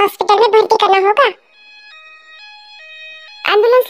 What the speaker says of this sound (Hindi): एम्बुलेंस पीछे पीछे आ रही थी।